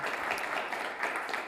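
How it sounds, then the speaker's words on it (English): A conference audience applauds in a dense, steady burst of many hands clapping at once, loud and even for a short moment with no pauses. "I think it's a round of applause"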